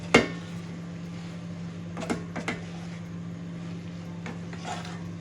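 A spoon stirs ugba sauce in a pot, giving a sharp clank at the start and a few softer scrapes and knocks over a steady low kitchen hum, with no talking.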